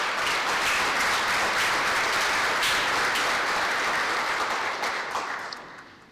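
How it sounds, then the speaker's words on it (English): An audience at a high school athletics hall of fame ceremony claps in sustained applause, a dense wash of many hands that holds steady and loud before tapering off at the end. "Please give these people a round of applause as well."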